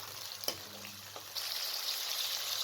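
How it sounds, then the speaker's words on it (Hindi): Meat frying with ginger and garlic in a pan for a dhaba-style daal mash and gosht dish, a steady soft sizzle that grows hiss-like partway through, with a couple of brief stirring clinks early on. "और 3 से 4 मिनट तक फ्राई करें कि गोश्त का कलर चेंज हो जाए"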